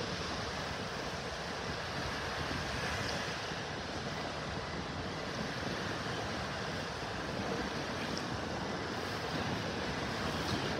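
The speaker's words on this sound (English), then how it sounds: "Sunday morning beach walk. We'll walk down the beach and see how things look here in North Naples." Surf washes continuously along a beach in North Naples, Florida, on an early Sunday morning walk, a steady broadband roar of breaking waves with some wind noise on the microphone and no talk.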